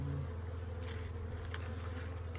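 Honey bees buzzing steadily around an open beehive, a continuous low drone close by with faint individual passes, no talking.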